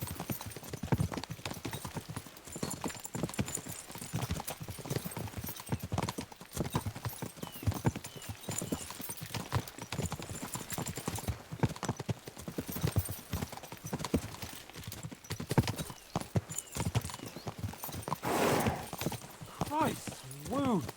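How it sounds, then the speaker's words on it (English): Horses gallop through the medieval world of Kingdom Come: Deliverance II, hooves clip-clopping in a quick steady rhythm close by for the whole stretch, with a brief whinny and people talking over it at times. "We should spur the horses on."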